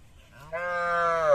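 A cow at a cattle market with calves lets out one long, loud, rising moo that swells and holds to the end, with faint background noise before it.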